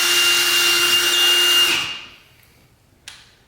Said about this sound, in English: now comes the fun part where I get to drill a hole into the ceiling of my garage